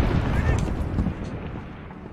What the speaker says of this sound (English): I hear rockets.